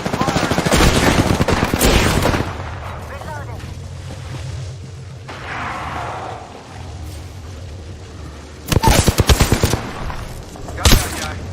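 Repeated bursts of automatic gunfire in the shooter game Apex Legends, loud and rapid at the start and again near the end, with a quieter stretch between that carries lower rumbling game sounds.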